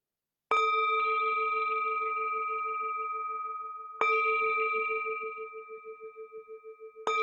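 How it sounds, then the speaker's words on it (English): A meditation bell is struck three times, each ring clear and resonant with a long, slowly fading sustain. The strikes are spaced unevenly, and the last tone wavers as it decays in a quiet room. "The sound of this beautiful bell returns us to our true home."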